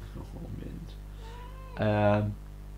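A single drawn-out cat meow, close and clear, rising and holding steady for about half a second after some faint background murmur.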